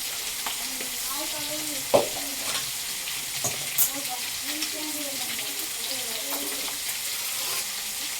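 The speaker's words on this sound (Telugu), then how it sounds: "ఇంకా చేపలు ఫ్రై చేసుకున్నాను" Fish frying in a pan for a fish curry, with a continuous close sizzling hiss and a few sharper pops and clinks, while a voice talks underneath.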